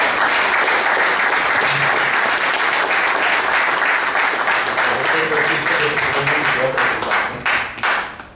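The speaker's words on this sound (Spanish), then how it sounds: "Palmas para él, por favor." An audience at a literary event of stories and anecdotes claps in a sustained, dense round of applause that thins out and fades at the end.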